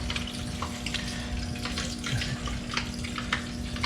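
Automatic transmission fluid drains steadily from the pan of an Infiniti G37, a continuous close splashing pour like a running tap, with no talk.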